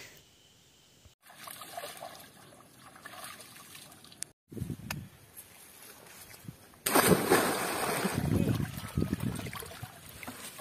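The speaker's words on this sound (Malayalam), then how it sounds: "നല്ല ഒഴുക്ക" Strong current of a flowing river during a fishing trip, rushing water with splashes that grows louder and fuller partway through, with faint talk in places.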